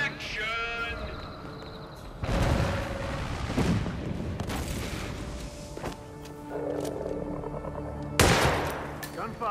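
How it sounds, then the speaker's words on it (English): Gunfire in the stealth action game Hitman 3, heavy bursts of shots and booming impacts mixed with in-game roaring effects and music, loud and layered with a final sharp blast near the end. "Gunfire."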